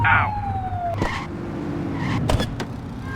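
A police siren in the video game The Precinct gives a short electronic whoop and wail with rising and falling tones over a low vehicle rumble, followed by a few sharp blips.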